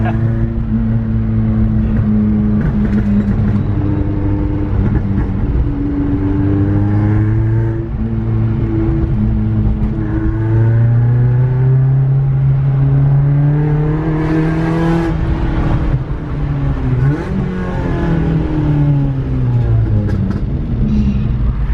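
Honda VTEC engine swapped into a Mk1 Ford Fiesta revs hard and close, its pitch climbing and falling through repeated high-revving sweeps with rasping harmonics, a brief loud burst midway.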